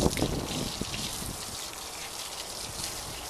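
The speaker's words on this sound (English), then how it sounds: "Blast this with some fresh water" Fresh water sprays across a boat deck in a steady, fairly quiet rush, with a slightly stronger burst at the start before settling into an even hiss.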